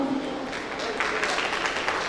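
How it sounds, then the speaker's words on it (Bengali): An audience at a stage show of folk music applauds, a crackling patter of many hands that swells in the second half, mixed with a voice over the hall. "তাদের জন্য আরেকবার হাততালি হোক।"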